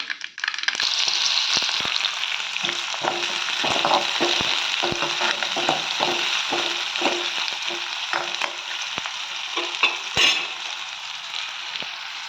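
Onion added to hot oil with popped mustard seeds, urad dal and chana dal sizzles loudly and steadily for a Tamil potato poriyal, with scattered crackles and spoon scrapes throughout, no voices.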